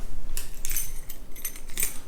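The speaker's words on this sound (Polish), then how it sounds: "Dostałem już kluczyk." Hotel room keys jingle in a few short metallic clinks and rattles, close by, with quiet pauses between them and no talk.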